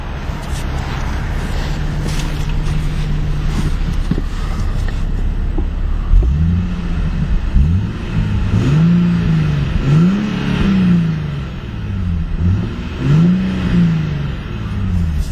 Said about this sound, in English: we'll go ahead and rev up that V6 a couple times.